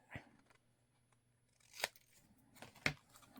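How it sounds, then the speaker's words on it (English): Scissors snip through paper for a journal craft project in a few sharp, separate cuts, one early and two more later, close and crisp in a quiet room with no talking. "She's using scissors."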